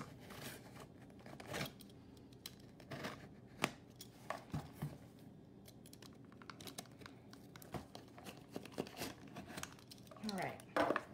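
A blade slices open a cardboard bead box package, giving a series of faint scraping, crinkling cuts and taps, with a person talking quietly in the background throughout.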